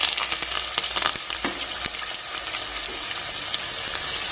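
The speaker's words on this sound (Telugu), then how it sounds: "ఇది కొంచెం మంచిగా ఫ్రై అయ్యే వరకు వెయిట్ చేయాలండి" Green chillies, onions and curry leaves fry in a pan with a close, busy sizzle, with sharp spits and crackles that are denser at the start and then settle into a steady hiss.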